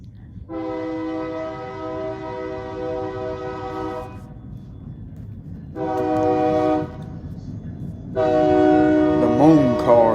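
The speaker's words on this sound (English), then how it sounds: "Y'all just give it a minute for this train to go by." Train horn sounding in three long blasts, the first about three seconds, then a shorter one and a third, over a steady low rumble of the passing train nearby.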